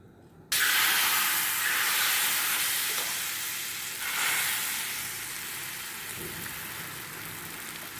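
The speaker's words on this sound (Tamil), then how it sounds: "இப்போ நம்ம வந்து தோசை ஊற்றிடலாம்." Ragi dosa batter poured onto a hot dosa griddle, bursting into a loud, steady sizzle and hiss that starts abruptly and continues, fading slightly as it settles.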